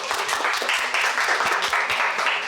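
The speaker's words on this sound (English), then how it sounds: "Can we just clap for them?" An audience at a talk breaks into dense, continuous applause from many hands, steady and moderately close throughout with no voices standing out.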